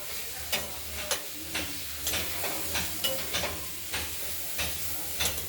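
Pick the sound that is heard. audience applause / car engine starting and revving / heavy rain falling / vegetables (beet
vegetables (beet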